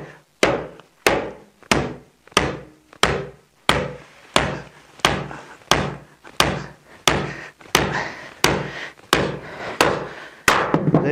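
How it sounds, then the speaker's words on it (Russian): A 150 mm nail driven into a plywood floor with a hammer, about sixteen sharp, evenly spaced blows, each a loud close crack with a short ringing decay, steady rhythm throughout. "вот этот небольшой гвоздик на 150 весело забиваем"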